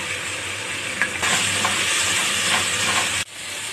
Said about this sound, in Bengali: দিয়ে এবার আমি মশলাগুলো কষাবো যতক্ষণ না মশলা দিয়ে তেল ছাড়ে।